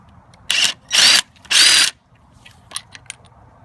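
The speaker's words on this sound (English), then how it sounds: "using the 18mm socket, we're going to remove this center bolt in the crank" Three loud bursts of an impact or power tool spinning off the center crank bolt with an 18mm socket on a Ford crank pulley, each burst about half a second long, followed by softer ratcheting clicks and clinks.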